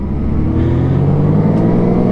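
A Ford Mustang GT's engine rumbles loud and close with a steady, deep revving drone that holds throughout, heard from alongside on the road.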